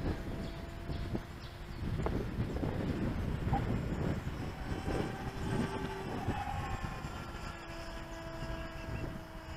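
An Ultra-Z Astro Pusher model jet makes a low pass in gusty wind, its turbine whine rising and sweeping past over a steady roar of wind buffeting the microphone.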